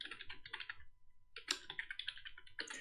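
Fingers type quickly on a computer keyboard in two close, crisp bursts of clicking keystrokes with a short pause between them, and no one speaks.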